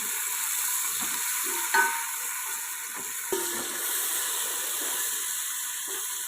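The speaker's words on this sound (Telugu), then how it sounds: "సన్నగా తరిగి పెట్టుకున్న టమాటా ముక్కలను కూడా అందులో యాడ్ చేసుకుందాం ఇవి కూడా మెత్తపడేంత వరకు కూడా బాగా మనం వేయించుకోవాలి" Chopped tomatoes fry steadily in a hot pan for a chicken pulao, giving a continuous close sizzle with a couple of brief stirring clinks, no voices.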